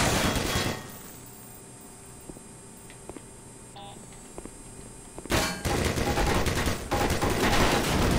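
An automated turret in Black Mesa opens fire in a loud, sustained burst, drops away to a quiet hum with scattered beeps, then resumes heavy continuous fire near the end.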